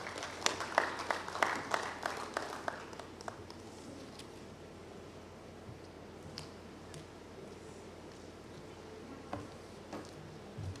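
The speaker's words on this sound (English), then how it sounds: "A very big round of applause to Mary." An audience at an HIV and AIDS symposium claps, loud at first and then thinning out to scattered claps, with faint murmuring underneath.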